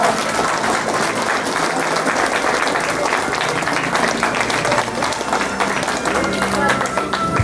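An audience at a primary school graduation ceremony claps loudly and continuously, a dense, sustained applause from a crowd with a murmur of voices mixed in.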